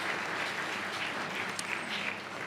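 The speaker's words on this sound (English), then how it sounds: "please give him applause" Conference hall audience at a Polish political congress claps in a steady, moderately distant round of applause during a roll call of chapter members.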